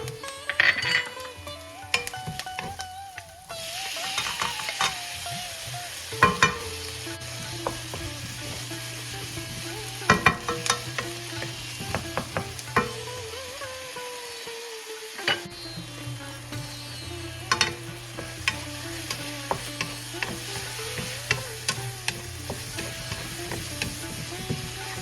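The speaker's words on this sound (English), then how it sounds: "add the garlic and the fresh chopped tomatoes, and continue to cook for 2 to 3 minutes longer until onions and tomatoes are lightly brown in color" Onions, garlic and fresh chopped tomatoes sauteing in a pan, a continuous close sizzle broken by frequent spoon scrapes and clinks against the pan, with one short lull in the middle.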